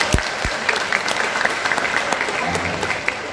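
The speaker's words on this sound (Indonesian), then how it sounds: "Tepuk tangan buat saya." An audience claps throughout, a dense, steady wash of applause at a religious talk on marriage, with a few brief low thumps near the start and no speech over it.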